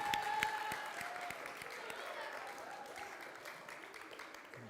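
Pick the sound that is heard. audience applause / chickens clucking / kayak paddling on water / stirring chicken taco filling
audience applause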